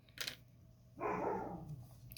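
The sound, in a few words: dogs barking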